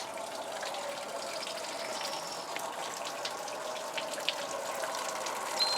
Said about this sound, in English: I got water overflowing here.